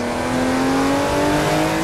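Porsche engine in the racing game Assetto Corsa, loud sustained revving with a rising harmonic whine climbing steadily, alone without talk.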